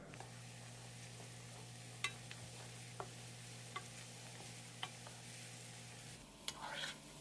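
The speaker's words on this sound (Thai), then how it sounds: "ระเทียมสับเจียวให้เหลืองหอมตามชอบเลยนะครับ" Minced garlic frying in oil, a soft, steady sizzle that stays faint and even, broken by a few sharp utensil taps on the pan, then a brief louder scrape near the end.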